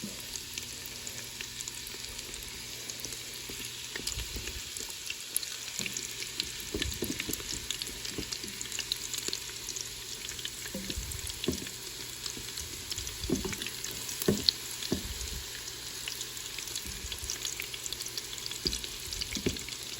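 Shrimp egg foo young fries in a Ninja Foodi with a continuous crackling sizzle, broken by repeated scraping pushes of a utensil against the pot, close and moderately loud throughout.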